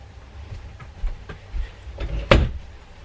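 A door swings shut with a sharp, close knock that stands out over faint room noise, preceded by a few softer taps and bumps.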